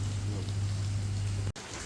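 Steady rain pouring down on Ceningan island near Bali, a dense close hiss that holds evenly before cutting off abruptly near the end.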